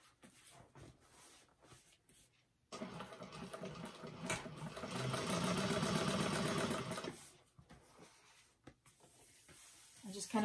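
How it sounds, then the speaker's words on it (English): A sewing machine runs a top-stitch along a bag seam in a steady burst of mechanical whirring, softer before and after, with quiet handling noise around it. "And then we're going to top stitch that with an 1/8 of an inch seam allowance."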